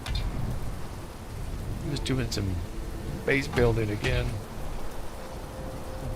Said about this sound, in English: We got rain coming down like crazy.